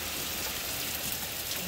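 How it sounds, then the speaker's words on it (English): Heavy rain falls outside, a steady dense hiss of drops on surfaces that stays even and fairly quiet across the short stretch, with no voices. "that's raining mad hard out there"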